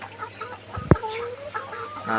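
A single short cluck from a nearby layer pullet stands out over a quiet poultry-shed hum, with faint bird calls in the background.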